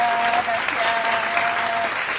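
A children's audience at a Christian kids' gathering claps in sustained, dense applause that holds steady throughout, with a few voices faintly mixed in.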